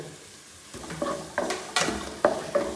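Chopped green chillies fry in hot oil in a pan for a vegetable rice biryani, with a soft sizzle under sharp scraping stirs that come in four or five quick strokes close by.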